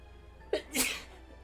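A single sharp sneeze bursts out close to the mic in a quiet room during a tabletop role-playing game session, a short intake followed by the louder explosive release.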